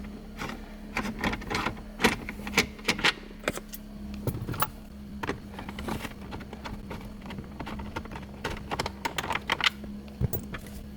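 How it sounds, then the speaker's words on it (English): Ratchet clicks and light metallic taps come in irregular bursts while 12mm bolts are unscrewed from a Lexus NX/GX console assembly, close and fairly quiet over a low steady hum. "So unscrew them."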